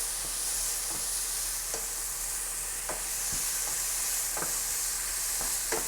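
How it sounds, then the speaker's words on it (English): Garlic and jalapeno sizzling in a pan for shakshuka, a steady bright hiss of frying with repeated light scrapes and taps as they are stirred, close up and without speech. "I'm going to go in with the garlic and the jalapeno. And a little piece of coriander that was stuck on the plate. And we're going to give that a nice little stir."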